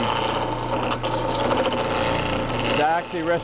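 A lathe chisel cuts a spinning wooden baluster, its bevel riding on the wood. The result is a loud, continuous rasping and shaving noise that shifts in tone near the end.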